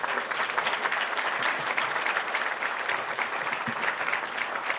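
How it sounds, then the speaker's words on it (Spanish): A crowd in a Mar del Plata hall bursts into steady, dense applause, many hands clapping evenly throughout without a break. "le damos la palabra a Vito Amalfitano con un aplauso grande para los tres."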